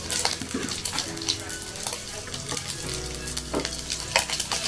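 Garlic and anchovies stir-fry in hot oil in a wok, a steady close sizzle with scraping stirs and light utensil clatter throughout.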